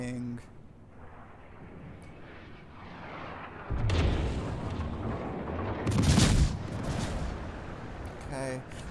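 Naval gunfire from enemy ships, a Wyoming and an Omaha, in a warship video game, with heavy booming impacts and rumbling blasts rising midway over a constant low engine drone.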